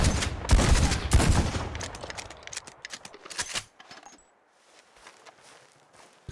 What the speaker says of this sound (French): j'ai acheté un fusil à pompe, écoutez